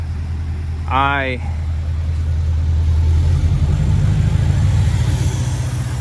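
A 2020-or-later L5P Duramax diesel truck with an SPE Lab 4-inch downpipe-back exhaust and muffler holds a steady, loud, deep drone at high idle, with a brief voice near the start.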